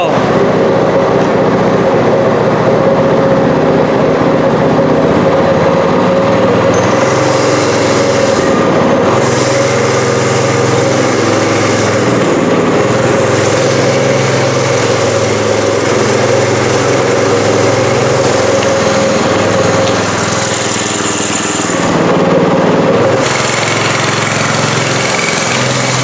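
Wooden go-kart engine running steadily through a test drive with a loud, continuous mechanical drone and rumble, shifting slightly in pitch and roughness, close and with no talk.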